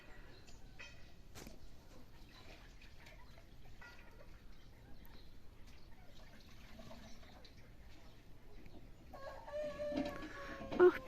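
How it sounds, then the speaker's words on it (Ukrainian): Faint birdsong chirps drift through quiet outdoor air at sunrise on a foggy morning, and a rooster crows more clearly near the end. "пташки виспівують"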